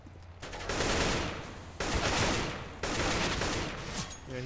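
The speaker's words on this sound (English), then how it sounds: "He's already shooting me over here." Heavy automatic gunfire in a co-op military shooter game during an APC escort mission, sustained bursts in three loud waves with brief gaps, no voices.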